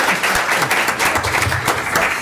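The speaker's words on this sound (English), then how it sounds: "we should applaud that" An audience applauds a colleague's 30 years in state service, a dense, loud, steady round of clapping filling the whole moment with no pause.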